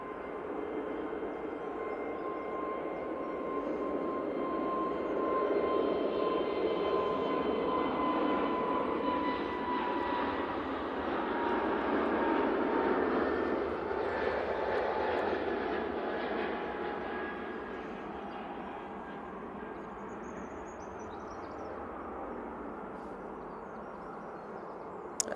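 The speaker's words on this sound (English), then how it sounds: "This is off to Tenerife, and as you can probably tell, it's an A320 Neo." An EasyJet Airbus A320neo at Manchester Airport departing for Tenerife, a sustained broad jet engine roar that swells and holds for the whole stretch, heard from a distance with no talking.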